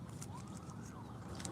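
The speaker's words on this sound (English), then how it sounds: "Y'all hear the cop sirens?" A police siren wails faintly in the distance, its pitch rising and falling under a low background rumble.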